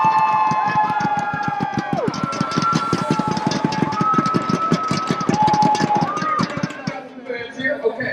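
A crowd at an esports event cheers and roars steadily and loudly, with whoops and whistles above dense babble that fades near the end.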